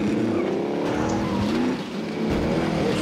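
Car driving in Call of Duty Warzone (Cold War era), a steady engine drone with a rising and falling pitch, continuous and fairly loud throughout.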